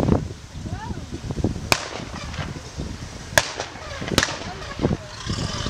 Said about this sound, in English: Lots of rounds cracking across the battlefield.